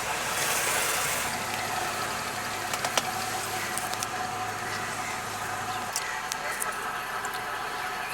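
A Honda car with a hard power steering fault and a glowing warning light idles with a steady low engine hum, and someone talks over it. The idle drone drops away near the six-second mark amid small clicks.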